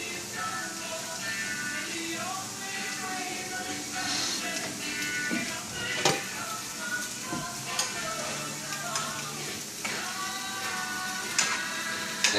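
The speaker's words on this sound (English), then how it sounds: "our ham is almost heated up" Ham heating in a frying pan at breakfast, giving a steady soft sizzle with scattered pops and utensil clicks, with a person talking intermittently over it.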